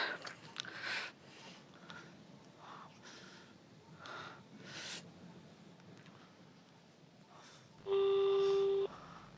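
Quiet rustling and soft breaths, then a single steady electronic telephone ringing tone sounds for about a second near the end.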